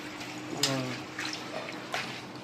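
Fresh mint leaves on their stems are swished and rinsed in water, giving soft splashes and trickles at close range, with a faint gentle voice in the background.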